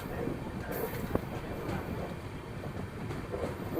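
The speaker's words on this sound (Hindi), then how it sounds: "अपनी ट्रेन किसी ट्रेन को ओवरटेक कर रही है" Steady rumble and rattle from inside the Dhanbad-Bhubaneswar Express as it overtakes another train, a continuous low clatter with faint rhythmic clicks and a brief sharp knock, fairly quiet and without talk.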